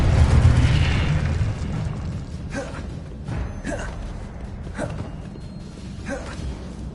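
Confringo and Incendio spell blasts in the Hogwarts Legacy video game: a heavy booming burst opens, followed by several sharper whooshing explosions spaced about a second apart, loud and close.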